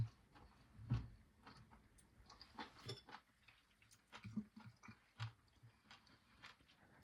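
Close, quiet chewing of cooked asparagus, soft irregular squishy bites and mouth sounds repeating over several seconds.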